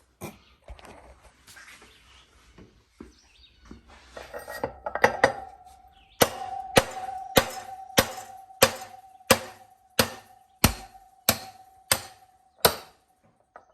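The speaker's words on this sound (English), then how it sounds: "So we just welded that on the inside of that race. Now we should be able to drive it out from the other side." A metal race is hammered out of a 2008 Harley-Davidson Softail wheel bearing bore: about a dozen sharp, ringing metallic blows land in an even rhythm after some softer shuffling and handling noise.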